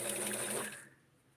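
A sewing machine stitches a Barbie side-shoulder dress in a steady, close whirring run that stops abruptly partway through, leaving near silence with one faint tap near the end.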